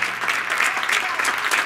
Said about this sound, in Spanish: vamos a dar un aplauso a los que no hayan venido